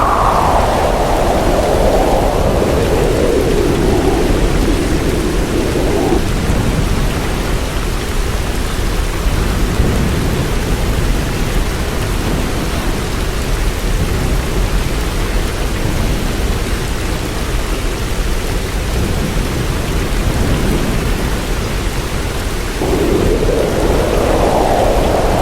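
Heavy rain pours without pause during Super Typhoon Krathon in Taiwan, a loud, dense wash of noise with deep rumbling thunder rolling beneath it and swelling near the start and end.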